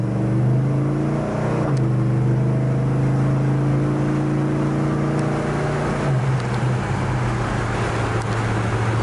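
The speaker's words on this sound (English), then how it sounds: "This car goes down the road just as nice as you'd ever hope to have a car drive." A 1963 Plymouth Fury drives down a road with a steady, smooth engine drone and the hum of rolling tyres, heard from inside the car with no talking.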